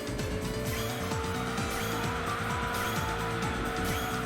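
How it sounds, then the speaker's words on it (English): An LMP prototype race car in the Enthusia racing game drifts, its engine note climbing and falling with loud, steady tire squeal throughout. "At least this car drifts naturally."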